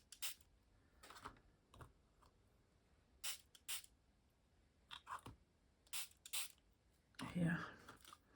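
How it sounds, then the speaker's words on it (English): Spray bottle spritzing water onto watercolor-like paints on a mixed media piece, a few short soft puffs among quiet scattered clicks and handling taps, close and faint. "I will just spritz them to"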